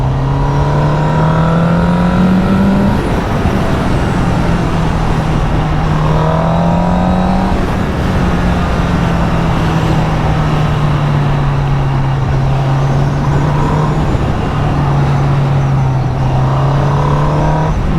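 Honda CBR Fireblade 1000 motorcycle engine held high and rising toward its roughly 13,000 RPM redline, a loud, continuous wailing drone with pitch climbing and dipping over about eighteen seconds, no talk over it.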